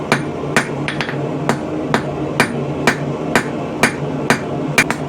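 A hammer strikes hot metal on an anvil while an arrowhead is forged into a square taper, giving loud, sharp, evenly spaced blows, about a dozen, with occasional quick double hits.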